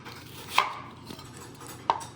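A knife slices through shallot on a cutting board in two crisp, separate cuts, the second about a second after the first. The sound is close and fairly quiet, with no talking.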